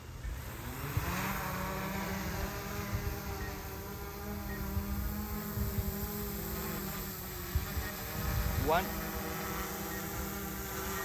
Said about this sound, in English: as soon as turn on the engines, I lift off the drone to a safe altitude